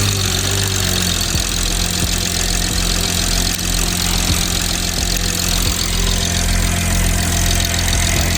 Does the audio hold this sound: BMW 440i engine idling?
yes